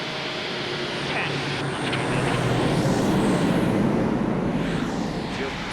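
Engines of an LC-130 Hercules ski-equipped transport plane during landing, a loud continuous propeller roar with broadband rumble that holds steady throughout, heard from inside the aircraft.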